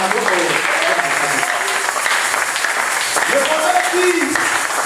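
A church congregation applauding during a sermon: a dense, continuous wash of clapping that fills the space, with a voice speaking over the top.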